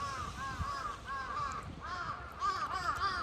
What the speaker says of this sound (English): Hopefully these crows don't want a piece.